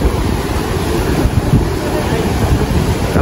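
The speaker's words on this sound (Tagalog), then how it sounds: "Nandito na yung big waves." Big surf at Cloud 9 in Siargao churns in a continuous, loud wash of breaking waves, heavily buffeted by wind on the microphone.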